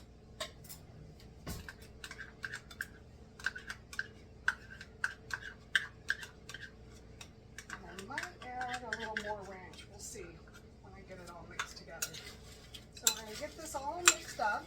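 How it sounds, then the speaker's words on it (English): Foil pack meal ingredients being stirred together with ranch dressing, spoon scraping and clinking against a bowl in quick irregular taps, close and fairly quiet, with a voice talking over the middle stretch. "And then I'm going to mix it together."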